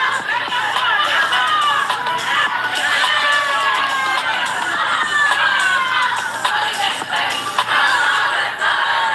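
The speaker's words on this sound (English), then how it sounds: "This one shows a bunch of people populating in a burger spot." A large, mostly young crowd packs a burger spot, a loud, continuous din of overlapping shouts, chatter and cheering that holds steady throughout.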